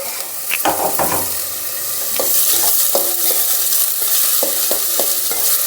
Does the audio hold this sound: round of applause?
no